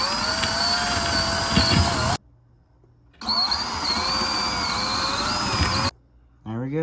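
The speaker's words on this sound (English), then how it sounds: "I'm going to have to like drill a hole" A power drill bores holes for a homemade fishing rod holder, two loud sustained whining runs of about two seconds each with a pause between, the pitch shifting as the bit bites, and a third burst just starting.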